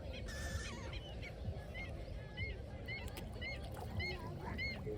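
Geese honk repeatedly at a lake, with short nasal calls coming at intervals from a little distance over a low wash of outdoor background noise.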